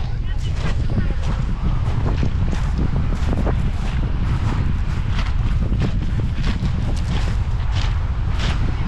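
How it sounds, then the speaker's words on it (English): Strong coastal wind roars and buffets continuously at Petra tou Romiou, Cyprus, loud and close, with gusty bursts of noise throughout. "It's very windy."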